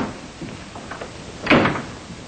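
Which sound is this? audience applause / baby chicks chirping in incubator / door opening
door opening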